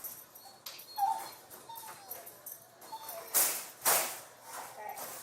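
A dog whimpers and whines in short, thin, high bursts, with scattered scuffling and a couple of louder rustling noises close to the microphone, and someone talks intermittently over it.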